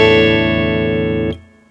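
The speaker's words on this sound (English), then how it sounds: "We've got the dry signal of the guitar" Dry, unprocessed electric guitar signal: a single sustained note with a bright, rich harmonic tone holds loud and steady, then is cut off abruptly, leaving only a faint decay.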